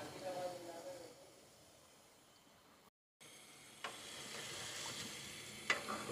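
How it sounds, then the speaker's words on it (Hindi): Chopped tomatoes frying in ghee for chicken karahi, stirred in the pan with a steady soft sizzle and scraping; the sizzle fades midway, cuts out briefly, then returns louder with a sharp tap near the end. "टमाटर भी डालने के बाद अब मैं इसकी अच्छी तरह से भुनाई करूँगी"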